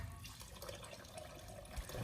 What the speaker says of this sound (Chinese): 接着再放到自来水中给它清洗一下